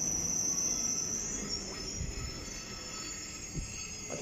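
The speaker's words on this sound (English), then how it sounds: "Harry, let's get on this one, the second carriage." A London Underground train rolls into Woodside Park or Totteridge & Whetstone station with a high metallic wheel squeal over a low rumble, steady and fairly close, gradually easing off.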